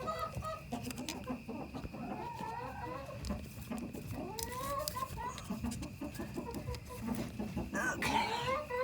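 Backyard coop chickens cluck and murmur in overlapping, close calls with a few higher squawks, steady and moderately loud, with no one speaking.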